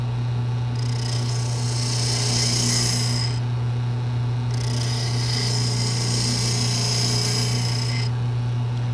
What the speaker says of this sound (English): And now I'll use a spindle gouge to finish shaping the top of the holder.